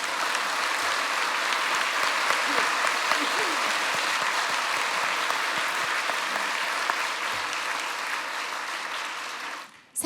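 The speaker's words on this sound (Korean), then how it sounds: "자, 박수해 주세요" A congregation claps at a church's 50th anniversary thanksgiving service, dense sustained applause filling the room for several seconds before cutting off abruptly at the end.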